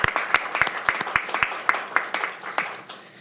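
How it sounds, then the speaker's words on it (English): At a county council meeting, a handful of people clap briefly after a resolution passes. The sharp, distinct claps come in an uneven rhythm and fade toward the end. "And a brief a moment of applause there."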